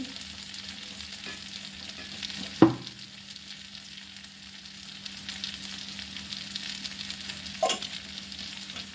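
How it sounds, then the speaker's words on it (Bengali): Hot water poured into a frying pan of fried potatoes for Bengali muri ghonto, giving a steady soft sizzling hiss throughout with two sharp knocks of a utensil against the pan. "জল গরম জলই দেবো। ঢেলে নিচ্ছি।"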